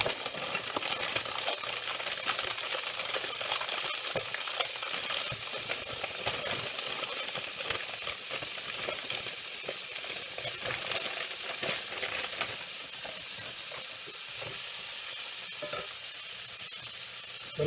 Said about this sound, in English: Just put that whole package right there into your skillet.